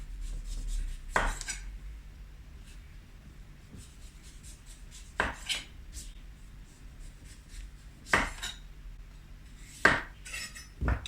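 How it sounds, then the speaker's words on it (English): A knife slicing a butternut squash into rounds on a board, giving four sharp, separate cuts spaced a few seconds apart, each a crisp close crunch over a quiet room. "Then you can just slice it up into rounds."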